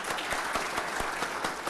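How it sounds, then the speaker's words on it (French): A crowd at an awards ceremony claps steadily in a continuous wash of applause, moderately loud with a few sharper individual claps poking through, no voices heard. "je vais demander un premier applaudissement pour ce soir."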